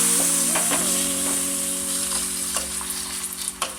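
Hot tempering hits tomato rasam with a bright, steady sizzle and frying hiss, close and fairly loud, with a few sharp pops toward the end and no voices.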